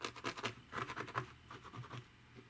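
A natural sponge rubbed against fingernails produces quiet, grabbing scratches in short, uneven strokes, close and soft, with no voices.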